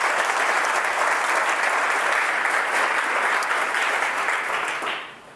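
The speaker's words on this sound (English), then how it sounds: "Let's give them one more round of applause." Warm, dense applause from a keynote audience at a smart cities event, many hands clapping evenly and loudly for several seconds before tapering off at the end.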